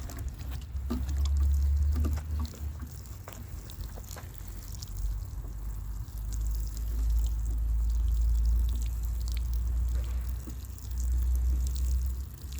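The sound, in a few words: water poured onto newly planted cassava cutting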